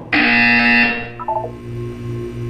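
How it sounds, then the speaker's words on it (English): A loud, harsh electronic buzzer in the video game Portal 2 blares for about a second, then cuts off, leaving a few softer beeping tones over a low hum. "You will hear a buzzer. When you hear the buzzer, look down at the floor."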